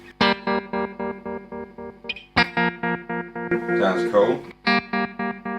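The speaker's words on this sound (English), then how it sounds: "Sounds like a tremolo to me." An electric guitar runs through a Seymour Duncan Shapeshifter stereo tremolo pedal, its sustained notes chopped into quick, even pulses, with a brief spoken word and a burst of noise partway through.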